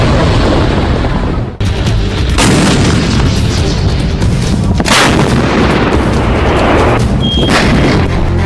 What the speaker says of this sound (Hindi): धनुष तोप, जिसकी मारक क्षमता है 38 किलोमीटर तक।